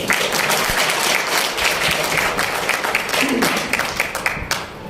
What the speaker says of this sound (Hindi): ताली बजा दो मेरे लिए